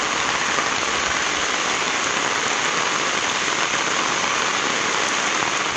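Heavy rain pours steadily in Dharmapuri district, a dense continuous hiss of downpour with no breaks or voices.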